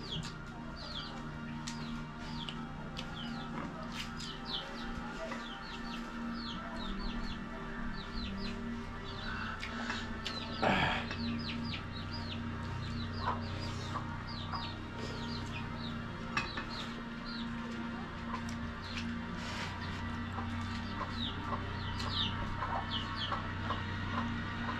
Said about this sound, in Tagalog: Daming manok